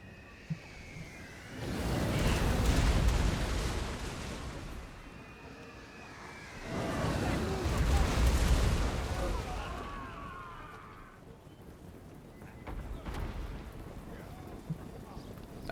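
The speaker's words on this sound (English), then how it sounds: "I have equipped my Sunmaker, and we are starting to fire at this position again." Sunmaker artillery in a Warhammer battle fires in two long, deep rumbling volleys that swell and fade, then a quieter third rumble, with a voice talking in the background.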